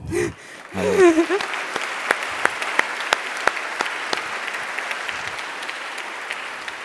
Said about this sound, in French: surtout des applaudissements à Vincent